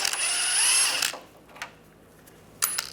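Power drill on a 13mm socket spins out skid shield bolts beneath a 1996-2002 Toyota 4Runner, one loud sustained whir for about a second, then two short bursts separated by quiet.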